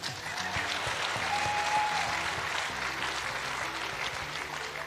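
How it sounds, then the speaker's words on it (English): Audience applause during a church sermon on marriage, heard as a steady, moderately loud wash of clapping throughout, with faint background tones and murmurs beneath. "Clap for me"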